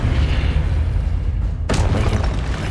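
A spell cast in Hogwarts Legacy on PS5: a sudden sharp magical burst hits over a steady low game rumble, then fades into a washy tail.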